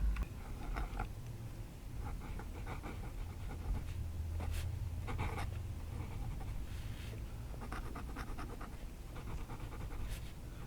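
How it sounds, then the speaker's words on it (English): A vintage Stilus Italian fountain pen with a flexible nib scratches across paper in soft, uneven strokes and pauses, faint and close, with no talking. "As I get used to the pen, it's easier to write with."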